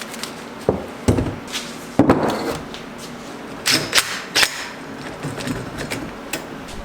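Turbos being bolted onto a freshly welded tubular exhaust manifold for a quad-turbo Honda Civic build, heard as scattered metallic clanks, clicks and ratcheting taps at close range, irregular and with no talking.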